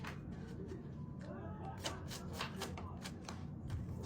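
A deck of cards is shuffled up close, with quick, quiet papery riffles and slaps repeating over a few seconds against a soft room background.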